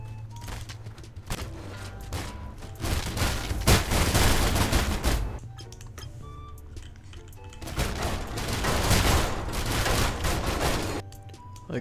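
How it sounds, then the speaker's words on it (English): Large custom gun in the sandbox game People Playground, modeled after a Doom weapon and firing people, unleashes loud, dense volleys of gunfire and booms in two sustained bursts, with no talking. "A giant gun that fires people."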